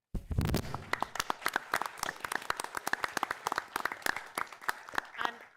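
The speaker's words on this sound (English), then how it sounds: "So an applause for themselves," A small conference audience claps together in a burst of applause, the individual claps sharp and quick, with faint voices in the background.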